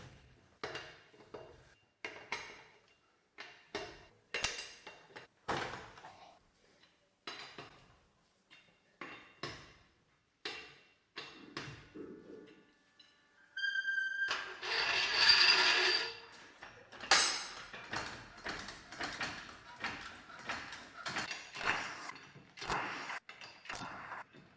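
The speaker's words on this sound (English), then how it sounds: "We will now disassemble the wheels by removing the hubcaps and wheels to locate the remaining bolts." Hubcaps and wheels being taken off a Citroën Ami, heard as scattered metallic clicks, taps and ratcheting clatter at low level, with a busier burst of rattling in the middle.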